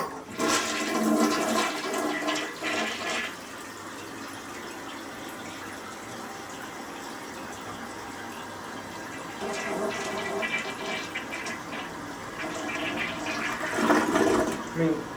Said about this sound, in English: I mean, it's got an okay flush,